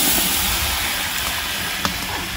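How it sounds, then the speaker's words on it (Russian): Cut potatoes dropped into a hot kazan of oil for pan-frying set off a loud, steady broadband sizzle and hiss that holds throughout, with one brief clack near the end and no talking. "Мы берем картошку и добавляем ее в казан."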